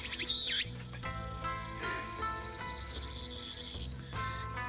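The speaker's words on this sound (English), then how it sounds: "Damn cicadas won't shut up" Cicadas buzzing on a hot evening, a dense, shrill drone that persists throughout, with other tonal sounds layered over it.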